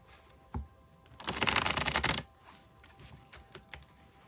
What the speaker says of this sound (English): Now I'll shuffle a couple times and then I'm going to cut the cards